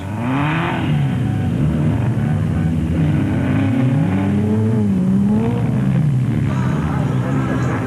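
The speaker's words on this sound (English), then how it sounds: "littered with stranded 2-wheel drive special vehicles that just couldn't get sufficient traction" Rally cars on a loose 2001 Carnival City 400 route, engines revving and wailing in rising and falling sweeps as 2-wheel drive vehicles fight for traction, loud and close with a continuous rough drone beneath.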